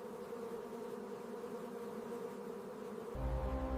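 Honeybees buzzing together inside a colony huddled against winter cold, a dense steady hum close by, with a brief low rumble entering near the end.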